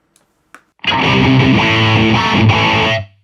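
Electric guitar played through a Line 6 distortion rig. A couple of faint picks come first, then one loud, thick, saturated chord rings on, bass-heavy and sustained for about two seconds before cutting off.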